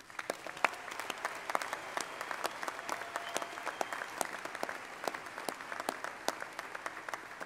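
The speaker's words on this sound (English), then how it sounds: "please join me in a round of applause for the class of 2015" Commencement audience applauding the graduating class of 2015 at Northwest Missouri State University, a sustained crowd of many hands clapping steadily with sharp individual claps standing out, no voices over it.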